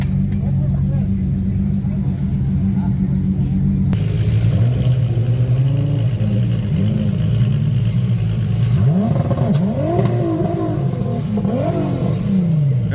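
A race vehicle's engine revs hard and unevenly while the gears fail to shift, a loud, steady roar with rising and falling pitch that stays close throughout.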